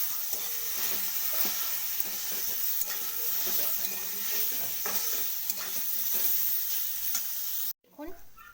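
Ground cumin and turmeric sizzle in hot oil in a pan for a dalia khichdi, a steady dense frying hiss with stirring scrapes that stops abruptly near the end, leaving a few faint clinks.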